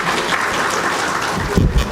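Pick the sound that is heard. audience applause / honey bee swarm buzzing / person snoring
audience applause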